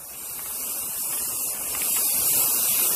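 Continuous hissing spray from an aerosol can, close and steady, swelling slightly in the second half.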